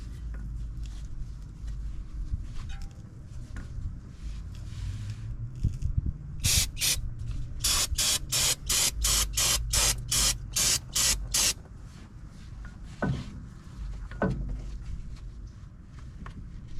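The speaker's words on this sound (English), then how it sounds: "Spray some brake cleaner on the rotor" A loud can of brake cleaner sprays onto the front brake rotor of a BMW F10 535i in a rapid series of short hissing bursts, close by, followed by a few scattered clinks and light rustling.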